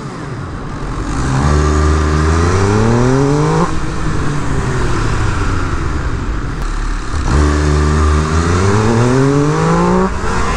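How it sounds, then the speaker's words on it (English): An MV Agusta limited-edition motorcycle engine revs hard in two long throttle pulls, its loud, close roar rising in pitch each time, with a short drop between bursts. "I'll rev it less."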